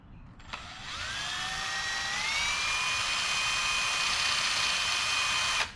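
A power tool machines out a tough plastic part while working on a 1980 Ford Courier's steering, a steady high-pitched whine that spins up over the first two seconds and then holds loud and constant before cutting off abruptly.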